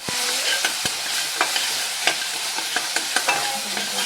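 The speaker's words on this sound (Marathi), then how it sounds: "छान असा मसाला आपला फोडणीचा परतून झालेला आहे." Spice masala tempering fries in a pan for a ridge gourd bhaji, making a constant close sizzle broken by repeated sharp scrapes and taps as it is stirred.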